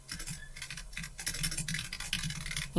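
Rapid, irregular clatter of keys on a computer keyboard during a Zorin OS Linux session, fairly faint and continuous with no voices over it.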